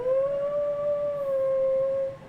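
A steady, drawn-out howl holds one pitch for about two seconds, sounding like a dog or a siren-like wail, fairly loud and alone, then fades.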